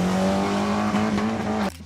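A 1963 Pontiac Tempest Le Mans with a 326 engine drives past with a loud, steady engine drone and tire noise that cuts off abruptly near the end.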